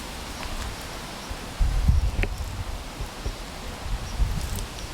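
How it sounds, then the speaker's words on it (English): Wind buffets steadily outdoors at a train station, a low rumbling roar that gusts louder partway through, with faint rustling and no one speaking. "It's so windy, apologies."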